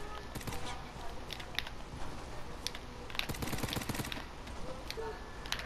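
Rapid bursts of gunfire ring out in an online squad shooter game: overlapping cracks and automatic volleys, some near and some farther off, run through the whole stretch over a dense background of game noise.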